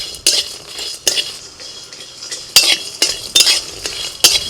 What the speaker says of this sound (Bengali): একেবারে হালকা আঁচেতে আস্তে আস্তে করে মশলাটা ভেজে নিয়েছি।